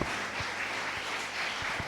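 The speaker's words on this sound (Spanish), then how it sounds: "Dale una ofrenda de palmas al que vive." A church congregation claps in praise during a service, a continuous, fairly soft roar of many hands with a few low thumps mixed in.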